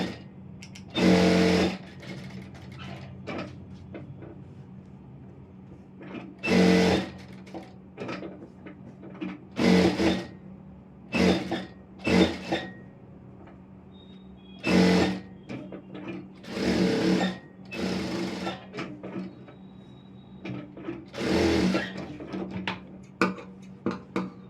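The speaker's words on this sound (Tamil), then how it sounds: "இப்போ சுற்றி வந்து தையல் போட்டுடுறேன்" A sewing machine runs large stitches around the neck of an Aari work blouse in short, separate bursts of rapid mechanical chatter. Quiet pauses between bursts carry a low, steady background hum.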